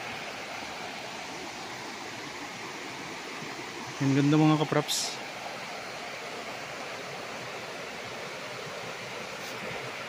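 A river beside a farm lot in Cavinti, Laguna, flows with a constant soft rushing wash, and someone briefly speaks over it partway through.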